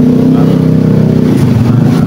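KTM Duke RC200 motorcycle engine after a rocker arm replacement, a loud close steady idle with a throbbing low pulse that swells slightly into a light rev.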